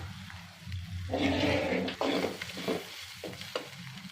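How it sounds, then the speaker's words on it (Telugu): Pre-cooked rice tipped into a hot pan for egg fried rice, setting off a loud burst of sizzling, then a spatula stirs and scrapes it in short strokes under a steady frying hiss. "ఇందులో మనం ముందుగా ఉడికించుకున్న రైస్ వేసుకుందాం."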